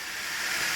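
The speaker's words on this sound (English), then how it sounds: "Okay, so the steam is coming out. The vent is still on venting" An Instant Pot Pro pressure cooker releases steam through its open vent, giving a loud, steady, close hiss that holds for the whole moment with no talking.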